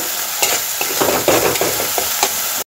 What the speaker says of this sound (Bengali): মশলাটা আমি 3-4 মিনিট ধরে ভালো করে কষে নিয়েছি